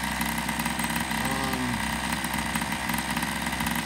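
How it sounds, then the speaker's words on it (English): A Rovan 45 RC engine with a piston-port modification and reworked intake transfers runs at a steady, buzzy idle with a rough, raspy two-stroke note. It is close and loud and plays without voices. "It's going to be a nasty little engine."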